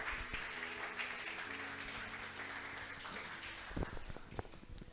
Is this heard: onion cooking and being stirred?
no